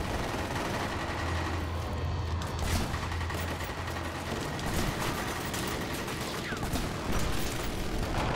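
Shotgun gunfire in online multiplayer Killzone Shadow Fall, with dense repeated blasts and battle noise filling the scene at a steady, busy level throughout.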